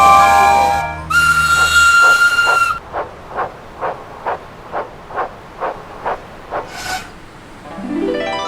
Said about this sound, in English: All the engines whistled and cheered